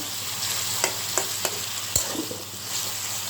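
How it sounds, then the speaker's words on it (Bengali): Taro chunks fry and get stirred with spices in oil in a pan for a hilsa curry, a steady close sizzle broken by a few sharp scrapes and knocks of the spoon. "কচুটা এখন মশলার সাথে ভালো করে কষিয়ে তারপরে আমি মাছ দিব"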